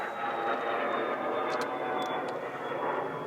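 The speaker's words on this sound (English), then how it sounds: "There's a dag blasted airplane in my video." An airplane passes overhead at a windy outdoor catfishing spot, a steady distant engine drone with broadband rushing noise that holds throughout at moderate level.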